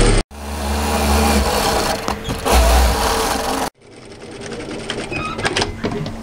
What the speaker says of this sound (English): So what I'm going to do is sew from the absolute outside of the hem through the overlocking line at 2 centimeters